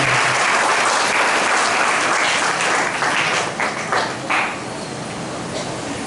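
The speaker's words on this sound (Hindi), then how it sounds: "ताली बजाओ और परमेश्वर का धन्यवाद।" Church congregation clapping hands together in steady, dense applause that fills the room, loud at first and thinning slightly toward the end, with no voices.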